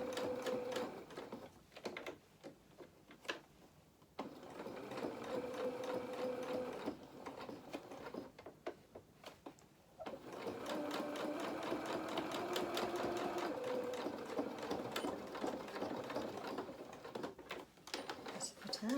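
A domestic sewing machine stitches fabric for a doll's head in bursts of steady rapid whirring, pausing and restarting several times, with someone speaking quietly between runs.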